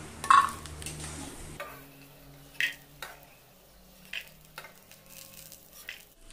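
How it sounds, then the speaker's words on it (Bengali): Peanuts frying in hot oil in a wok, a soft steady sizzle broken by a few sharp scrapes and clinks of a utensil stirring against the pan, close and fairly quiet with no talking. "আর দিয়ে দেব বাদামটা তেলে আমি একটু ভেজে নিব"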